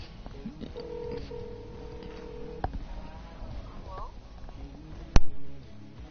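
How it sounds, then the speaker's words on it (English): A telephone keypad sounds a quick run of dialing tones, followed by a steady call tone, while a person talks in the background; a sharp click lands near the end. "we're gonna call someone on stream"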